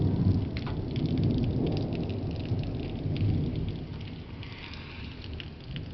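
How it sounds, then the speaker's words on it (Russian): Heavy rain pours steadily during a thunderstorm in Verkhnyaya Salda, a dense hiss of drops with deep, rolling thunder rumbling continuously beneath, loud and close with no one talking. "Вот такую грозу."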